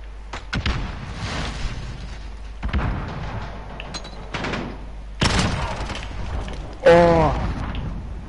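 Rocket blasts and gunfire in a fast online shooter game, several loud bursts spread across the clip, the heaviest near the end, with a voice talking between them.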